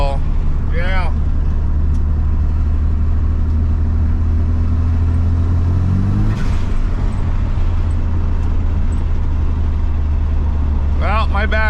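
A 1997 Mitsubishi Eclipse GS-T engine drones loudly while driving, its pitch climbing as it accelerates before dropping back, with a voice talking briefly at the start and end.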